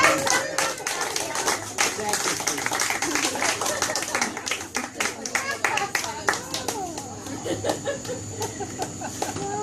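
An audience at a magic show applauds a volunteer, dense rapid clapping from many hands filling the room, fairly close, with a voice speaking briefly over it.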